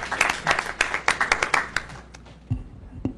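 A small meeting audience gives brief applause to honor a year-long program and its organizers; distinct individual claps ring out for about two seconds, then fade into scattered taps and a soft thump.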